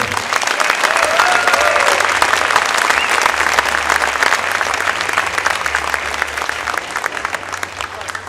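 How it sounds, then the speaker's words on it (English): A crowd at a boys' high school basketball awards ceremony gives loud, sustained applause, thick continuous clapping with a low hum underneath, filling the hall throughout. "Let's give this incredible class one more round of applause for the Knox."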